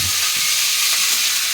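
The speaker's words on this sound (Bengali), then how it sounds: "দেখো আবার আলু ভাজা করছে" Potatoes frying in a pan give off a steady, close hiss and sizzle, with a few soft low knocks near the start.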